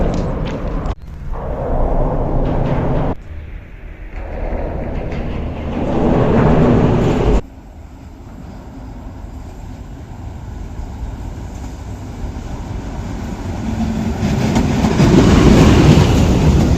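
A train rumbles past close by through a station in Montenegro, loud and heavy, with shifting clatter and a long fading roar of wheels on track.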